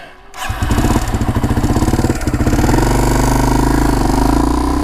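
A Yamaha TW200 motorcycle engine starts up loudly and close, then settles into a steady throbbing single-cylinder chug that rises in pitch as the bike gets moving on a forest singletrack trail in the Eastern Sierras.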